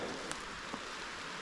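Steady rain falling on a North Georgia garden with banana plants, a continuous soft hiss with a few faint distinct drop taps, heard close and alone.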